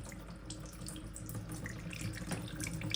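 Tap water pours in a steady, close splashing stream for houseplant watering, continuous with no voices.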